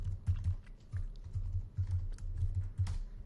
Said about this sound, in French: si je tape une URL